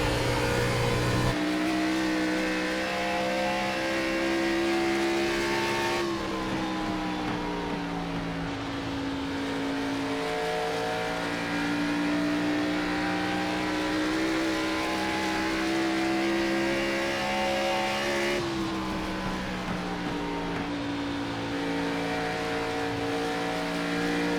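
A race car engine drones steadily through a lap of Dover in the iRacing sim, its pitch shifting with gear changes and easing slightly in the corners, loud and continuous with no voices.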